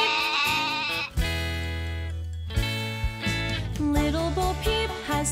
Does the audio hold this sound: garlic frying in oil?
no